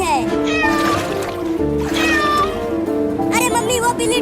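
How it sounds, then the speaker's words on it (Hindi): A cat meows repeatedly, wavering and strained, while stranded in flood water, mixed with voices and music in a comedy sketch setting; the cries rise and fall over several seconds, loud and close. "मम्मी वहाँ देखो, एक बिल्ली पानी में डूब रही है।"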